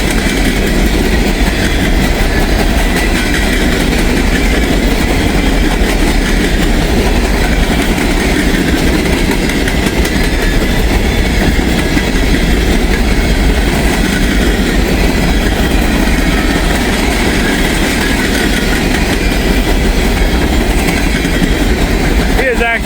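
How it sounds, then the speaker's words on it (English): A loaded coal train rolls past at about 35 mph with a steady, loud rumble and rhythmic clatter of wagons that lasts the whole time, while a voice talks over it now and then. "Coal train."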